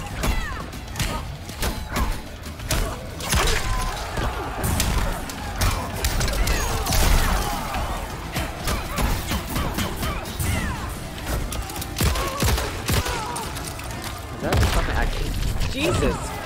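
Robocop's big rifle firing in a Mortal Kombat 11 fight, sharp repeated bangs and crashing impacts over busy game sound, with someone talking throughout.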